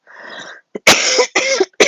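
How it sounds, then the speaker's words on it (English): A person coughs several times in quick succession, close and loud, with a raspy throat-clearing quality between short pauses. "Got a cough."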